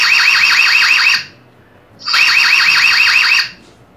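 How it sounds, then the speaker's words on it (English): The built-in siren on an EZVIZ H9c dual-lens pan-and-tilt Wi-Fi camera sounds in two loud bursts of a rapidly warbling high-pitched electronic alarm, separated by a short pause. "There is a built-in siren for this camera"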